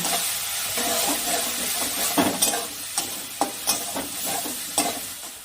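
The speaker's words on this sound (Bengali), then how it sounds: "এবার মশলাটা ভালো করে কষিয়ে নেব।" Spice paste with chilli powder, Kashmiri chilli powder and salt sautés in a pan for fish kalia, a steady close sizzle broken by sharp scraping stirs of a spatula.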